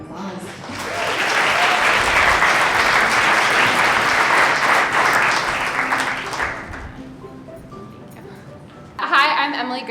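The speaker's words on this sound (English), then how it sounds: "So please give a big round of applause." An evening launch-event audience gives a long, full round of applause that swells early, holds, then tapers off before a voice begins speaking near the end.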